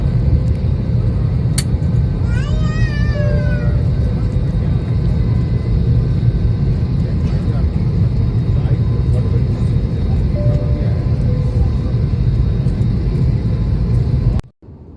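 A steady, loud rumbling drone fills an IndiGo airliner cabin during a flight from Hyderabad to Hubballi, with a brief chime-like tone early on, before the sound cuts off abruptly near the end.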